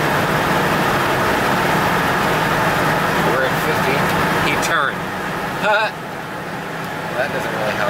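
A 1978 Mercury Marquis Colony Park station wagon engine runs steadily on a test drive, with loud continuous road and engine noise that eases somewhat after the midpoint.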